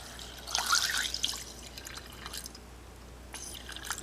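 Water splashes and trickles into a container in a short burst for a coin-cleaning mix, then thins to faint drips and dribbles in a quiet room.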